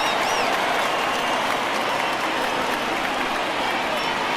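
Crowd cheering and applauding at a Minnesota Twins baseball game, a dense, steady roar of many voices and clapping filling the stadium, with commentary underneath.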